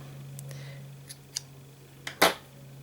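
Scissors snip crochet yarn tails in a few faint, quick clicks, ending in one sharper, louder cut against a quiet background with a low hum.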